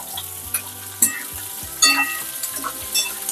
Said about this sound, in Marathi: आता आपण ह्याच्यामध्ये कांदा टाकूया।